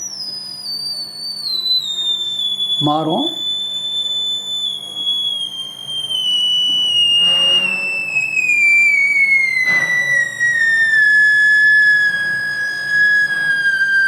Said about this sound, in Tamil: ஒரு சவுண்டு, ஒரு விசில் சவுண்ட்.